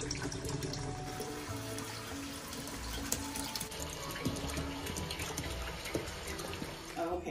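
Water runs into the tub of a Giantex/Costway portable mini compact twin tub washing machine, a steady splashing trickle with faint clicks and knocks throughout.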